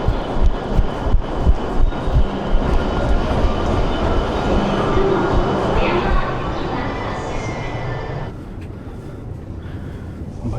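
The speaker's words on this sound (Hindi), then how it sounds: "भाई ट्रेन पकड़ ली भाग के।" A train passes at a station in Japan: a loud rumble with rhythmic clacking of wheels over the rail joints, fading as the cars go by, with a voice briefly audible.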